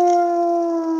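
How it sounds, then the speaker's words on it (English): A wolf in the video game WolfQuest, Travis Lake, howls in a single long, steady tonal note that holds level and loud across the whole moment, with no talk over it. "Travis Lake is howling over there."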